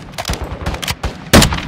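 Bursts of automatic gunfire from Call of Duty Warzone 2.0 DMZ mode, several rapid volleys under two seconds with a louder, close burst near the end, no talking.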